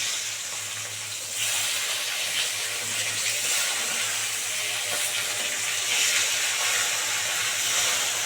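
Pomfret fish frying in a pan gives a steady, close hiss of sizzling oil that lasts throughout and grows slightly louder after the first second, with no talking.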